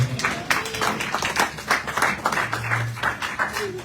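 A church congregation applauding together, a few seconds of scattered, moderately quiet clapping with some voices mixed in.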